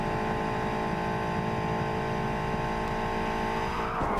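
A powerful car's engine drones steadily in Cyberpunk 2077, a loud continuous rumble with tire noise and a slight shift near the end as it moves off in reverse.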